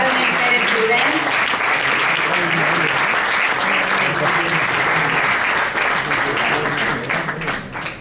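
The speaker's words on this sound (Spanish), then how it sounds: "Fuerte el aplauso para despedir" A conference audience gives sustained, steady applause to send off a speaker, a dense, even wash of many hands clapping for the full stretch before tapering slightly at the end.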